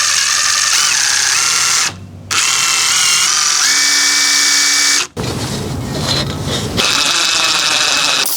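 A power drill pre-drills holes for a hanging barn door's bottom bar, whining loudly and continuously with a short pause, then a rougher, grinding stretch as the bit bites in.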